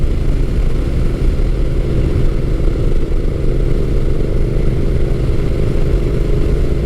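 A Honda Rebel 1100 DCT cruises in 6th gear at about 53 mph and just over 3,000 rpm, giving a loud, steady engine drone mixed with constant wind rush, with no talking.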